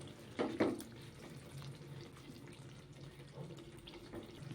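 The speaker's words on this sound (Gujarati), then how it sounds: "આમાં આપણે પાણી એડ કરી દઈશું" Water is poured into cooked masala in a pan: a short, quiet splash and trickle near the start, then faint low background.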